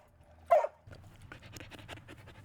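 A dog panting at an outdoor walk-to dog park: a brief sharp whine or yelp, then quick, steady, breathy panting close by and fairly quiet, with no talk over it.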